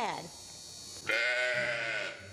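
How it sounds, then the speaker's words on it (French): A little sheep bleats up close in two drawn-out, wavering cries, the second longer and louder, with no speech over it. "c'est ici le petit mouton"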